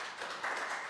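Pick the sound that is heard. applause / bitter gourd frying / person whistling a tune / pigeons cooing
applause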